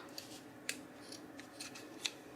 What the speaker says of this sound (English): I am going to cut the ends off